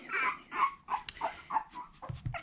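A 16-day-old boxer puppy whimpers and yips in a string of short, high, whiny cries, close by and fairly quiet.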